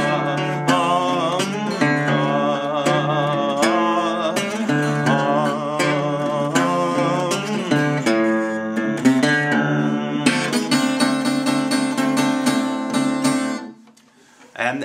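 Blues guitar plays the moaning section of a song: steady picked bass notes under ringing melody lines and a busier flurry of treble notes near the end, loud and close, then a brief dip.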